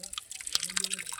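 Spring water drips and splashes faintly as fresh carrots are washed, with a short burst of splashing midway and a voice speaking softly underneath.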